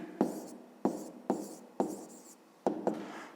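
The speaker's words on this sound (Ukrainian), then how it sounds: "Записуємо тоді відповідь, пишемо відповідь." A pen or pencil scratches out an answer by hand in short strokes, five or six separate quiet scribbles close by with brief pauses between them.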